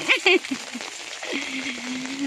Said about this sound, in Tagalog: So, ayun guys, umuulan.